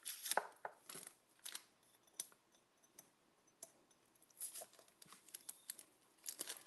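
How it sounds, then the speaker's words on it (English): Tape is pulled and torn in short, sharp bursts around a shrink-wrapped soap dispenser and toothbrush set, along with crinkling plastic and clicks. The sounds are close and quiet, with pauses between them. "I tape the top and bottom."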